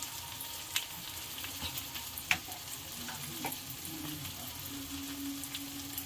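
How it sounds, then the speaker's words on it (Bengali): Chili, cumin and coriander powders fry in a pan for a Bengali jackfruit and prawn curry, giving a faint, steady sizzle with a few soft crackles and taps from stirring. "মশলাটা ভালোভাবে কষিয়ে নেব।"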